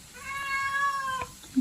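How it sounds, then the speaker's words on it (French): A house cat meows once in a long, clear, drawn-out cry close by, followed by a short thump, in a home where a meal is being cooked. "Le chat qui miaule tout le temps."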